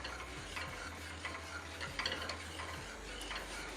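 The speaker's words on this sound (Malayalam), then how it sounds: "ഇനി തീ നമുക്ക് ഇത്തിരി കൂടെ കൂട്ടി വെച്ചിട്ട് ഇളക്കി ഇതൊന്ന് ചൂടാക്കണം." A spoon stirs cucumber-mango curry in a pot being heated over the flame, with soft scrapes and light taps repeating over a low steady hum, quiet and close.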